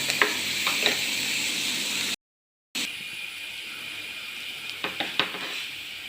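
Sliced onions sizzling in a pan, a steady close frying hiss with occasional stirring scrapes and clicks, broken by a short silent gap.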